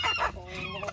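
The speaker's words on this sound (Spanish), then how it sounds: "ahí vas a mirar cómo las gallinas se ponen a mover todo el alimento" Hens cluck in a quick close burst at a homemade PVC-pipe automatic feeder, one short loud call followed by softer clucking.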